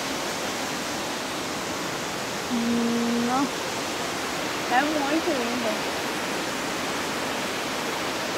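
Continuous rushing roar of a waterfall, Cachoeira do Félix in Bueno Brandão, Minas Gerais, Brazil, steady throughout, with a couple of short voices speaking over it midway.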